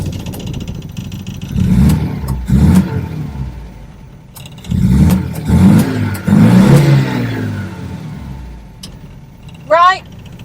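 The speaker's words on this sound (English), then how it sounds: "to hear that 1600 engine that's clearly been robbed out of something or other under the bonnet" A 1950s Austin A55 Cambridge MK1 fitted with a 1600 engine, heard from inside the car as it is blipped in several loud revving bursts that rise and fall, separated by idle, ending with a short rising whine.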